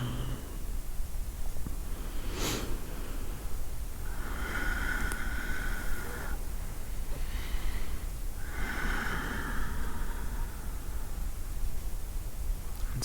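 Deep, slow breaths are drawn in and released through the nose during yoga practice: a few long airy inhales and exhales over a steady background hiss.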